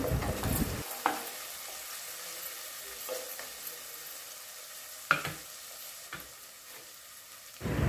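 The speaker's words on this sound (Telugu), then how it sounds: "ఇప్పుడు అల్లం వెల్లుల్లి పేస్ట్ వేసుకుందాం ఈ పచ్చివాసన పోయే వరకు కలబెట్టుకుందాం" Ginger-garlic paste sizzles softly in hot oil for mutton curry while a spoon stirs it, with intermittent scraping strokes against the pan over a quiet frying hiss.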